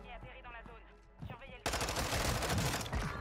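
Vaznev submachine gun fire in the video game Warzone 2, a fast, loud, continuous burst that starts abruptly after someone speaks French and runs for over a second.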